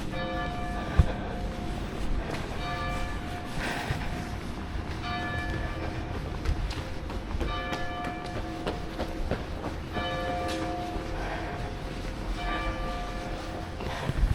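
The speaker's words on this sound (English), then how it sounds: "Bell ringing is really distracting my head." Bells ring repeatedly near London Bridge during an outdoor charity walk, their tonal peals returning every couple of seconds over a steady rumble of trains and city traffic.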